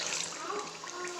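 Water splashes and gushes steadily into a cooking pot of chicken karahi, a full, rushing pour heard up close.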